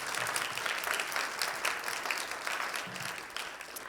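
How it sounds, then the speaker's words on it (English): An audience at a nursing and health policy event gives a steady, fairly quiet round of applause that carries on evenly from start to finish. "give you a round of applause right now from everyone here"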